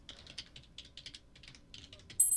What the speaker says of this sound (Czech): teďka jsem mačkl klávesnici blbou